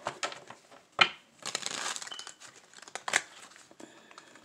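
Tarot cards from a Thelema deck being handled and shuffled, giving a close series of soft crinkling rustles, flicks and short papery snaps with brief pauses between bursts, no talking.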